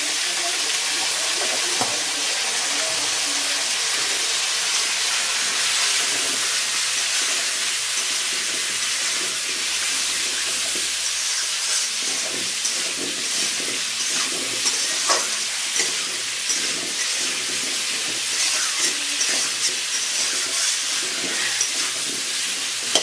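Potatoes frying in oil with salt and turmeric, a steady close sizzling hiss with occasional crackles and stirring scrapes, continuous throughout.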